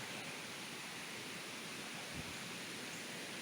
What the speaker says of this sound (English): This particular waterfall is the third highest cascade east of the Mississippi River.